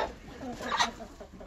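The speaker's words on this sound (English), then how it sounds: "I'm already out here and amongst the chickens because, well, you may have just heard a few of them squabbling." Backyard chickens clucking and squabbling nearby, a burst of agitated fowl calls rising mid-clip over low ambient noise, with no talk.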